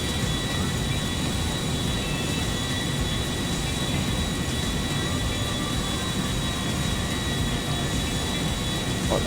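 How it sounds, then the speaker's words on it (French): An airplane landing on a runway in the GTA V video game: a dense, constant engine roar with a steady high whine, loud and unbroken throughout, no voices heard. "Voilà, on arrive sur la piste d'atterrissage"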